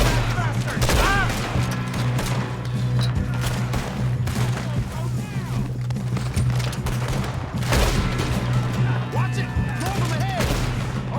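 A Red Dead Redemption 2 shootout: heavy, continuous gunfire with many overlapping shots and booms throughout, mixed with shouting voices and game dialogue.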